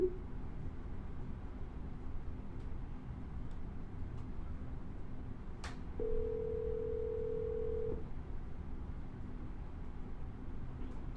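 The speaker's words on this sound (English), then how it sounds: "I'm gonna double dial." An outgoing phone call rings once as a steady two-second electronic tone, heard faintly over quiet line hiss with no talk.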